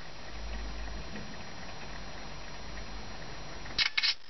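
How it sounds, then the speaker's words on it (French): A Dapeng A7 phone camera takes a photo, giving a short double shutter click near the end after a stretch of quiet background hiss. "Et on prend une photo."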